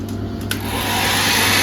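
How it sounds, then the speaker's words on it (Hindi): A hotel bathroom hair dryer hums and whirs steadily, nearby and fairly loud, its broad airflow rush building slightly and holding on without pause. "यहाँ पर आपको एक हेयर ड्रायर दिया हुआ है"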